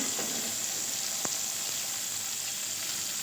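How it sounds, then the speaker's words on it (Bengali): Spices, tomato and green chili sautéed for potol paneer, a steady, even sizzle with one brief clink of a utensil, no voices. "দিয়ে ভালো করে কষিয়ে নেবো"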